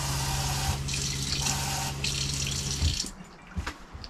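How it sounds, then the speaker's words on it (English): Water runs steadily from a pull-out kitchen faucet in an Escape 21C fiberglass RV trailer, a continuous close-up splash that shifts in tone as the spray changes, then cuts off into a few faint drips. "It's actually a pull-out faucet and has a switch from"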